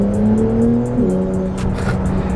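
A 2022 Porsche 911 Turbo S engine drones loud and close under boost, its steady tone dropping in pitch about a second in before holding level, with no talking.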